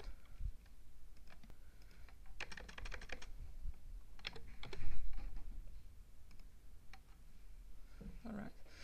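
Quiet bursts of typing on a computer keyboard, clusters of light key clicks with short pauses between them, fairly close and faint.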